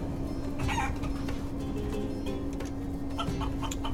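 Chicken clucking from the video game Guacamelee! 2, a few short clucks over a steady bed of game music and background hum.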